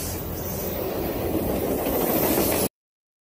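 A train sound effect rumbles with a steady, loud rolling clatter of wheels on rails, running continuously before cutting off abruptly near the end.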